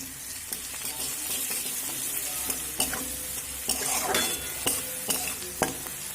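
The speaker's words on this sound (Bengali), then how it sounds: "এইবার এখানে এই তেলের মধ্যে দিয়ে দেব কালারের জন্য অল্প পরিমাণে হলুদ" Turmeric tossed into hot oil for poha pulao, a continuous close sizzle with frequent scraping stirs and light clinks of a spoon against the pan.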